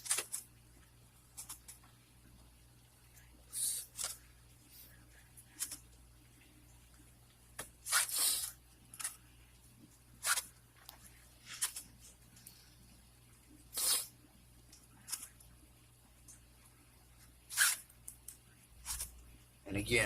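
Zoopoxy epoxy putty folded by hand like pizza dough, giving a series of soft, brief squishing and crinkling sounds at an irregular pace, close and faint, over a low steady hum.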